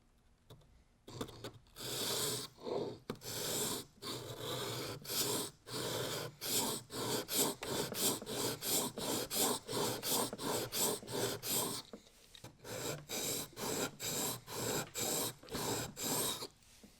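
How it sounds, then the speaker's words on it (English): A chisel is pushed back and forth on a 400 grit sharpening stone in a guide set to 30 degrees to form a secondary bevel, giving steady rhythmic rasping strokes up close with a brief pause midway. "I went back to the 400 stone and reset the guide to 30 degrees, so I'll put the secondary bevel on now."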